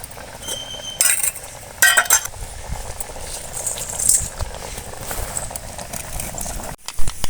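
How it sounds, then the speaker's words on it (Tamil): Sharp crackling pops and sputters as mustard seeds splutter in hot oil, irregular bursts over a steady sizzle, close up with no talking. "கடுகு பொறிஞ்சிச்சுங்க"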